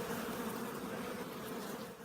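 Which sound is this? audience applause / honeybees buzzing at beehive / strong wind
honeybees buzzing at beehive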